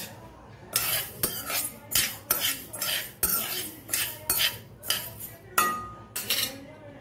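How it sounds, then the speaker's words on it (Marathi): Fenugreek seeds roasting in a dry pan for ladoo, stirred with a metal spoon that scrapes and clinks against the pan in about ten sharp, regular strokes, close and clear with no talking. "आता याच्यात मेथी टाकून घेते, ही ती भाजून घेते।"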